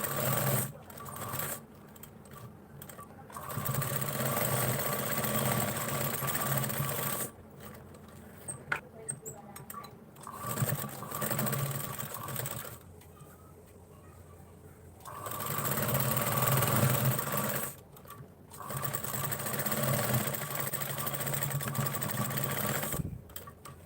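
Sewing machine stitching the side seam of a blouse, running in several sustained bursts with short pauses between them, steady and close.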